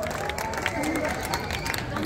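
Audience at a live concert applauding and cheering for a band, with a dense mix of clapping, shouts and crowd noise over a short stretch.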